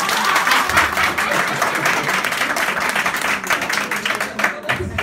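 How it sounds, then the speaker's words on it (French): An audience at the Olilor school applauds a student, with steady, dense clapping from a crowd that holds at an even level for about five seconds. "Aline, applaudissez pour Aline, s'il vous plaît."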